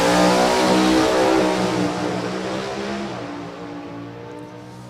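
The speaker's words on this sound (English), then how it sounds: "does Santo's car sound like it was popping down there" A drag racing car at an NHRA event at New England Dragway accelerates hard down the strip, its loud, steady engine roar filling the whole stretch and easing off slightly toward the end.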